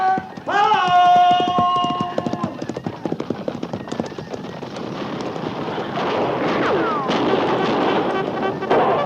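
Cavalry horses gallop in a Western radio drama set around Fort Laramie, their hoofbeats a fast, loud rhythmic drumming that runs continuously under shouted commands and busy battle noise.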